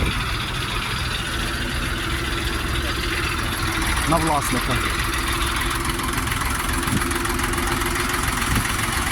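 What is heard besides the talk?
Jinma tractor engine idling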